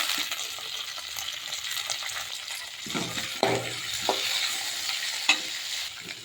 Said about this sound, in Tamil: கொஞ்சமாக எண்ணெய் ஊற்றிட்டு கடுகு ஜீரகம் வெங்காயம் கூடவே சின்ன வெங்காயம் அவரைக்காய்